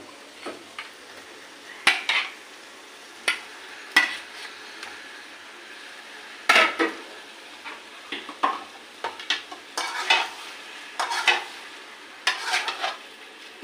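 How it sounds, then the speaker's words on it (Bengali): Cooked pasta is tipped into a pan and stirred, producing irregular sharp clanks and scrapes of a utensil against metal over a quiet sizzle, close up and without talk. "এগুলোকে ঢেলে দিয়ে দিচ্ছি।"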